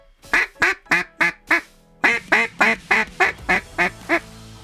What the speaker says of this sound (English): Very good, well-rounded duck call.